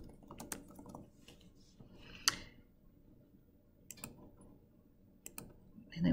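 A name is typed on a computer keyboard in a quiet room, with a few sparse, distinct key clicks and taps spread out over several seconds.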